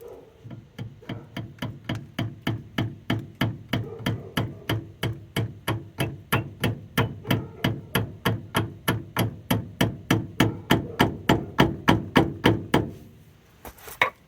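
A hammer taps repeatedly at an idler arm on a 1994 Dodge Ram 3500, about forty sharp, evenly spaced metallic knocks in a steady rhythm, close and loud, stopping near the end.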